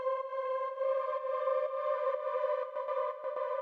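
Atmospheric techno pad sample without any LFO pumping, a steady sustained tonal drone with a few soft dips, heard quietly and alone.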